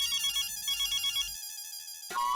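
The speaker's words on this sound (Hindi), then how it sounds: "मेरे ऑफिस से फोन है" A phone rings with a melodic electronic ringtone, a loud close warbling pattern that stops briefly and then starts again.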